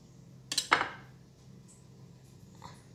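A knife cuts through cuttlefish and strikes a hard surface twice in quick succession, giving two sharp, close taps, followed by near silence with a faint clink later.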